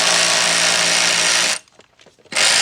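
A power tool with a T50 bit tightens bolts on a Kia/Hyundai engine during timing chain work: a loud, steady whir for about a second and a half, a brief pause with small clicks, then the whir resumes.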